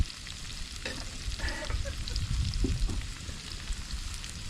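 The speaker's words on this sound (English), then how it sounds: "Put the steaks on now." Steaks cooking on a grill over a campfire outdoors, giving a continuous crackling sizzle with a busier, louder stretch in the middle, close by with no voices.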